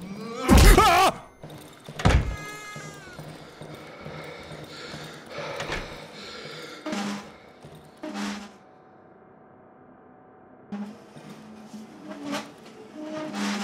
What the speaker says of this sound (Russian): он там топает, вы слышите?